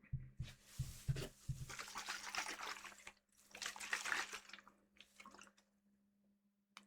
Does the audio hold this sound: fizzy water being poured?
yes